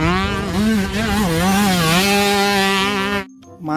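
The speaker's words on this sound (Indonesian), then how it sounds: "Wow, lihat, ada motor cross teman-teman." Toy motocross motorbike engine noise, a buzzy revving drone with wavering pitch, close and fairly loud, playing alone before stopping suddenly near the end.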